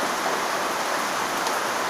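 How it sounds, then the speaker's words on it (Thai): Heavy rain falls during a storm as a dense, steady hiss of rainfall, loud and unbroken throughout with no voices. "ฝนกำลังตกมากพี่น้องนี่เป็นพายุบน"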